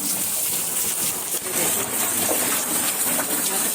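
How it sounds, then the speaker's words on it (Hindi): Water from a submersible pump pours steadily into a storage tank, a continuous loud rushing gush with bright hiss that holds almost unchanged throughout, with no talking. "समरसेबल में बहुत तेज़ पानी आता है, और 2 या 3 मिनट में ही टंकी भर जाती है।"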